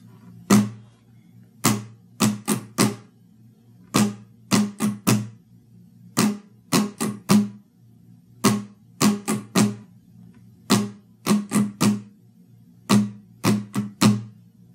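A guitar strummed in a syncopated rhythm gives crisp, percussive strokes in uneven clusters and pauses, repeating a clear pattern, played close and solo with no voices.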